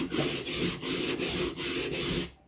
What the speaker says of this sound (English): I'm just going to do a few strokes, not that many in each part of the blade.